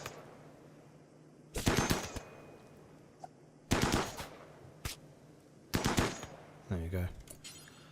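Gunfire from weapons in the video game RimWorld comes in three loud, sharp bursts of rapid shots spaced a couple of seconds apart, with a brief voice speaking near the end.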